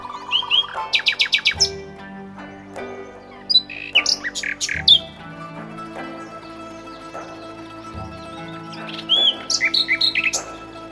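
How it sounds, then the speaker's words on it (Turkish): Birds chirp and squawk in quick repeated bursts, with several calls spaced across a quiet outdoor background of a village in Tosya, Kastamonu, Turkey, and a steady low hum. "Kuş seslerinden başka ses yok burada."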